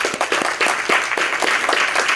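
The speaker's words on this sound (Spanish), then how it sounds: "Vamos a darle la bienvenida con un gran aplauso" Steady applause from a crowd at a tribute forum, dense clapping that keeps going without pause.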